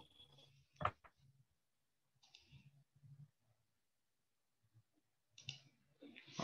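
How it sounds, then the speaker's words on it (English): A few sparse computer mouse clicks, faint and close, separated by quiet gaps in a hushed room with no talk. "make sure to scroll down and click on update profile"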